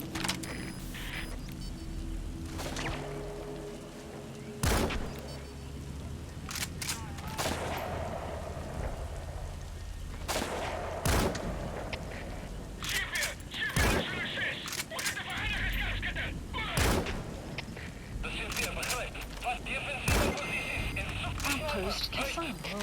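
Gunfire in Metal Gear Solid 5 rings out in sharp, loud reports, single shots and short bursts scattered throughout, mixed with game effects and voices speaking over the action.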